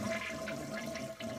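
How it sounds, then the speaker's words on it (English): A household toilet flushes to empty its tank during a leak repair, a steady rushing of water swirling down the bowl, close and continuous for the whole stretch. "Next thing we're going to do is we're going to flush so we remove the water from the tank."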